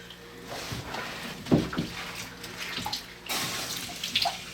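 Running water splashes and gurgles unevenly while a Samoyed's ear is wetted during a bath, with bursts of louder spray and a few drips, close and moderately loud.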